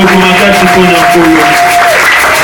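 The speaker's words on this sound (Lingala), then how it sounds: "Acclamez très fort pour les gens." Church congregation applauding during a service, a continuous wash of clapping with a sustained voice or tone running over it, loud and close throughout.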